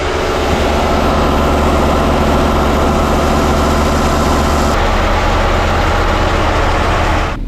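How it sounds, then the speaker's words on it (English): A sailboat's inboard engine, still leaking oil and water, runs loud and close with a steady low rumble and hum that shifts slightly in tone partway through. "we got the engine up and running, but it is still leaking oil and leaking water"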